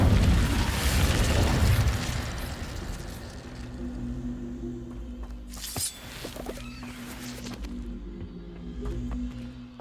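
Incendio fire spell cast in the Hogwarts Legacy game, a loud whooshing fiery burst with a deep rumble that settles into a lower crackling roar, then a few sharp clatters, heard alone.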